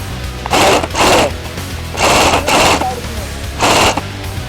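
A G&G CM16 Raider airsoft AEG fires five quick bursts outdoors in the woods, each a loud, close mechanical buzz of rapid shots, separated by brief pauses.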